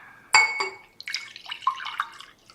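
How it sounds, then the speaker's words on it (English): Water being poured into a glass in a small cabin: a sharp clink at the start, then a brief trickling, bubbling pour with a few drips, close and fairly quiet. "Let me just pour some water."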